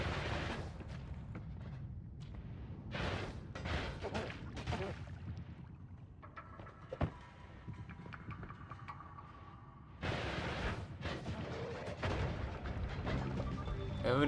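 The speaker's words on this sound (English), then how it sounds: "Everything exploding." Repeated explosions and booming blasts from a boat-themed roguelike video game, dense bursts of noise recurring throughout, with a quieter stretch in the middle before the blasts resume loudly at the end.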